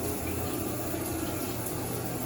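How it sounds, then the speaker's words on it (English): A motel shower in Albuquerque running with low water pressure, giving a steady, even hiss of falling water that stays constant and close with no other sounds. "Here's a shot of the shower's water flow so you can judge for yourself."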